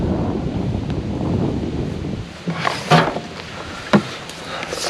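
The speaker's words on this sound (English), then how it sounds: "It's nice and breezy and sunny." Breezy outdoor air on a sunny day brushes past the microphone as a soft, rushing rumble, easing midway and then giving way to a few sharp, brief gusts and rustles.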